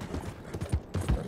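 Horse hooves clip-clopping in the video game Red Dead Redemption 2, a quick run of fairly loud, close beats over a short stretch.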